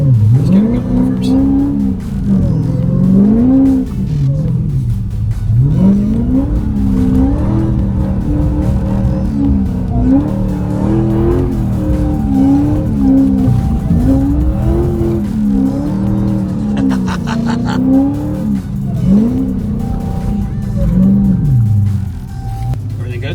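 A Dodge Demon revs and drifts. Its rumbling engine swings up and down in repeated surges, with tire noise over the top, loud and close. Voices talk intermittently over the engine.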